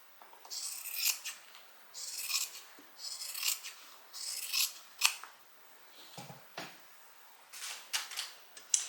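Scissors cutting through fabric while trimming a tote bag pocket, with a run of crisp, rhythmic snips close by, some paired, pausing briefly before a few final cuts.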